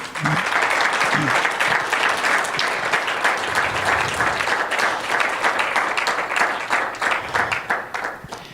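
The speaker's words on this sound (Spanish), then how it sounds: "Denle un aplauso al Señor." Congregation applause at a church service fills the space loudly, a dense, sustained roar of many hands clapping together with crowd noise mixed in, holding steady for several seconds before tapering off at the end.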